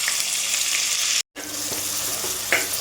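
Thinly sliced onions fry in hot oil with a steady, close crackling sizzle, broken by one brief silent gap and a few louder pops, no voices present.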